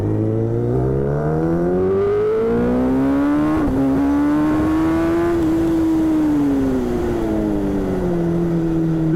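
Kawasaki Ninja ZX10R sport motorcycle with 212 hp pulling hard at high revs on a closed road, its loud engine note climbing through gears with a brief dip at a shift, then holding a strong howl close up.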